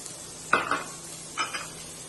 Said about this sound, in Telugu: ఇలా ఫ్రై చేసుకోవాలి. ఇదిగోండి, ఆనియన్ వేసుకోవాలి, క్యాప్సికమ్ వేసుకోవాలి